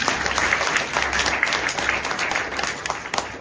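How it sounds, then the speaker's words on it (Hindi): An audience at a silver jubilee gathering of a Brahma Kumaris service centre in Chandigarh applauds warmly, a continuous, fairly loud patter of many hands with a few sharper claps, no speech over it. "जोरदार तालियों से"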